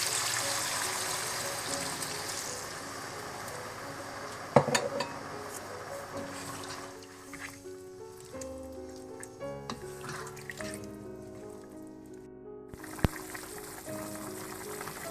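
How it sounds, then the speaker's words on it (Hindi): Chicken stock poured into a pan of lightly fried ingredients while cooking chilli chicken, a gentle stream and trickle of liquid with clinks of cookware, a sharp knock partway through, all close and fairly quiet. "थोड़ा सा भूनने के बाद आप इसमें चिकन स्टॉक भी डाल दें।"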